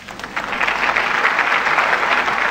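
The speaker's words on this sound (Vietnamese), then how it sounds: "Chúng ta hãy dành một tràng pháo tay để giải tỏa bớt sự căng thẳng của họ." Studio audience applause on a Vietnamese television quiz game show, a steady, dense wash of clapping from a crowd that holds evenly throughout with no talk over it.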